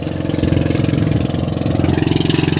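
Spare gasoline outboard engine on a fishing boat running steadily and close by, a loud rhythmic chugging throb with no pauses and no talking.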